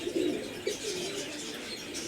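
Domestic pigeons coo softly, with a few short rolling calls early on over a faint background hiss.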